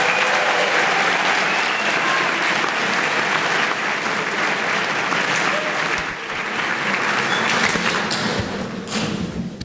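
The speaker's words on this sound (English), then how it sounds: "could you also please give a big round of applause for these students who are assembled here with us" A big round of applause for honors students at a high school honors ceremony, loud and sustained clapping from a full room, with a few thumps mixed in and a slight dip midway.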